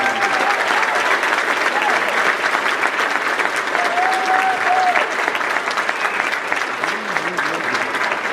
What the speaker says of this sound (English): Please give these gentlemen and ladies a round of applause